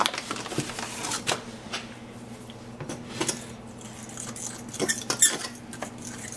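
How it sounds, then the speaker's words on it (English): Whole wheat flour being stirred in a bowl, heard as irregular clinking and scraping taps of a utensil against the bowl, moderately close, with no talking. "So I'm gonna put 2 of the 3 cups in now. And mix that around."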